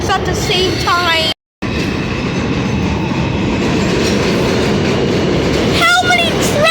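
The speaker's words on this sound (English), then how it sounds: "Trains at the same time." A train rolls past on railroad tracks, loud and close, with a continuous rumble and clatter of wheels, high squeals at the start and end, and a brief cut partway through.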